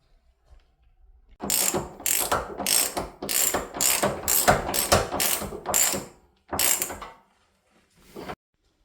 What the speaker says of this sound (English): So we'll get these bolts bolted up, fastened up, and then these bits can be welded.